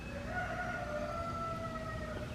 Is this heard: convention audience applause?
no